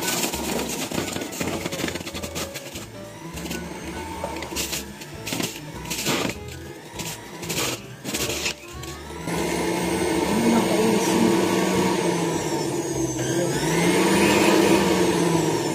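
Electric juicer whirring as it presses washed fruit, a loud steady motor drone broken by uneven grinding bursts early on, then settling into a continuous higher whine for the last several seconds.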